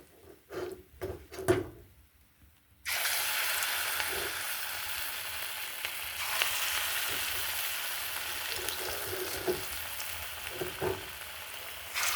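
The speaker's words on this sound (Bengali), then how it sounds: "এবার কড়ায় এগুলো সব ভাজা হয়ে গেছে তুলে নিচ্ছি" Bitter gourd pakoras deep fry in oil in a wok in a village kitchen. A few knocks and clinks come first, then a steady, close sizzle starts about three seconds in and runs to the end with light scraping taps.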